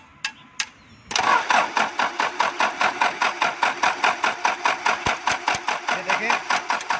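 A diesel engine, with air being bled from its fuel system, is cranked on the self-starter: after a couple of short clicks, a loud steady rhythmic churning of fast regular compression pulses runs for about six seconds without catching.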